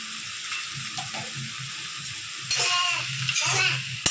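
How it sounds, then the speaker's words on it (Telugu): Potatoes stir-frying with salt and turmeric in an Andhra-style aloo fry give a steady close sizzle, growing louder and busier in the second half as the pan is stirred, with faint spoon scrapes. "ఆ రెండు వేసినాక బాగా కలిపేసి లో టు హై ఫ్లేమ్లో తిప్పుకుంటూ అడ్జస్ట్మెంట్ చేసుకుంటూ చేసుకోవాలి"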